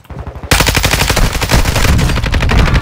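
Rapid automatic gunfire in a first-person shooter game on Ashika Island, a loud, dense burst of shots in quick succession after a brief quiet lead-in.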